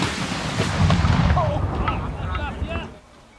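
An RPG-7 rocket fired at a Toyota car: a loud booming blast with rolling rumble that decays over a few seconds, followed by faint whistling tones before fading out.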